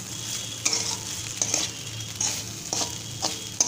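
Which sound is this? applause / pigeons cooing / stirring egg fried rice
stirring egg fried rice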